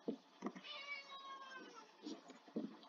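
A cat gives one long, drawn-out meow, loud and close, with short percussive knocks before and after it.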